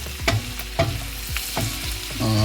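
Garlic butter sizzles and pops in a pan with lobster, lime and parsley, giving a steady close frying hiss broken by several sharp pops and stirring scrapes, with no voices.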